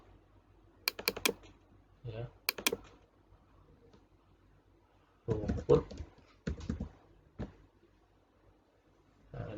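Short bursts of clicky keyboard typing come in a few separate clusters, with a voice speaking briefly between them.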